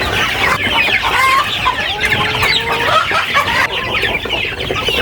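A flock of chickens clucks and chatters continuously nearby, overlapping calls rising and falling with no pause.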